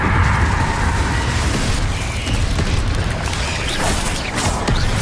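Confringo fire spell explosions in the Hogwarts Legacy video game, a dense, continuous roar of booming blasts and crackling bursts that stays loud and steady throughout without any talk.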